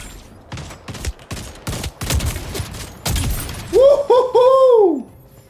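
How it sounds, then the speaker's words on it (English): A gun firing in the Splitgate 2 video game, a burst of sharp, close shots in quick succession, followed by rising electronic weapon whines and effects. "Let's try this gun."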